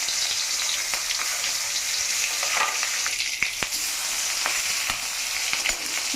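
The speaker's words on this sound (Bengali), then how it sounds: "কড়াইতে তেল দিয়ে দিলাম, ডিমটা একটু ভেজে নিব।" An egg coated with turmeric fries in hot oil in a kadai, a wok-style pan, over a lowered gas flame. The sizzle is steady and close, with scattered sharp pops and crackles, and nobody speaks.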